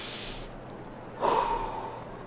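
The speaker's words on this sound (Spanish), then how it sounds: "ASMR de respiración." Deep breathing as part of a relaxing breathing exercise: a slow, close, audible breath drawn in and let out, with a sharper intake near the start, alone without talk.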